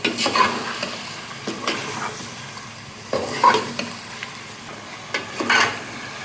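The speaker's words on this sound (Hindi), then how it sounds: "इस वक्त नाज़रीन इसकी आंच जो है तेज़ रखी जाए ताकि गोश्त अच्छी तरीके से अदरक लहसुन के पेस्ट के साथ यकजा होकर इसमें सही तरीके से भुनाई हो" Meat browning in ghee with ginger garlic paste over high heat for Delhi qorma, a continuous close sizzle broken by repeated scraping stirs of a spoon against the pot, with no talk.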